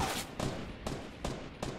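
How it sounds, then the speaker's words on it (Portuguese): Gunfire in a video game: a rapid series of sharp shots, roughly five reports spaced evenly over a couple of seconds, fairly loud and with no talking. "tô levando tiro do outro lado, velho"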